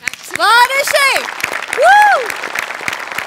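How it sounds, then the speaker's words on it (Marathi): An audience applauds for the set-design department at a Marathi stage comedy show, a broad wash of clapping running under loud, excited voices throughout. "सगळ्यात आधी सेटिंग डिपार्टमेंटसाठी टाळ्या."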